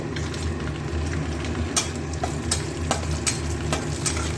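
Cardamom, cinnamon and cloves frying in ghee over a low flame, a steady close sizzle with faint stirring clicks and scrapes throughout and no voices.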